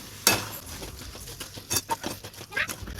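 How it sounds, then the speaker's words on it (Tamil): Liver gravy being stirred in a pan, heard as quiet, irregular scrapes and soft clinks of a utensil against the pan, with a few stronger strokes among them. "இப்போ நல்லா மிக்ஸ் பண்ணி விட்டுருவோம்"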